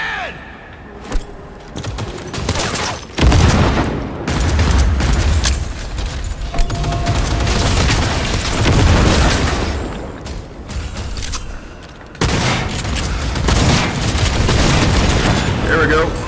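A frag grenade detonates in Cyberpunk 2077 during a heist, a loud booming blast set among dense bursts of gunfire and heavy combat noise that run nearly the whole time, with a voice talking over parts of it.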